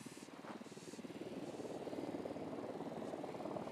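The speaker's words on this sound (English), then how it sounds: "We got a chopper coming in." A helicopter approaches in the video game Ghost Recon Wildlands. Its rotor thump grows steadily louder and closer over a droning engine, with no voices.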